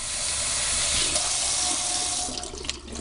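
Beans are rinsed under a running kitchen tap, a loud, close, steady rush of water hitting and spattering in the sink, easing off near the end with a few splashes.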